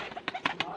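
A pigeon kept by a fancier coos briefly in a soft, faint series of three short low pulses, with distant background noise.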